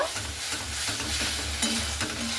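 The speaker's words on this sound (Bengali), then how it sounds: "তো আলুটাকে দিয়ে মশলাটাকে দিয়ে খুব ভালো মতো করে একটু নাড়াচাড়া করে নেব।" Fried potatoes tossed with spice masala in a pan for a spicy okra dish, a close, steady sizzle with soft scraping strokes of a spoon stirring through the mix.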